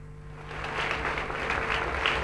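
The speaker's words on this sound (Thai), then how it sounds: "ท่านผู้มีเกียรติครับขอเสียงปรบมือนะครับให้กับผู้เข้าประกวดทุกๆท่านเป็นกำลังใจอีกสักครั้งหนึ่งนะครับ" Audience applause for contestants at the Miss Tiffany's Universe 2004 beauty pageant: dense, steady clapping from a large crowd that swells slightly over about two seconds, with a faint steady hum underneath.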